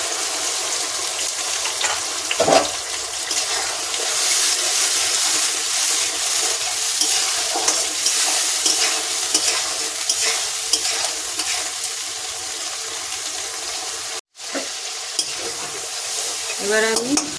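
Rohu fish curry with mustard-poppy paste being stirred in a frying pan: a steady, close sizzle with repeated scraping strokes of the spoon, a brief dropout near the end, no voices.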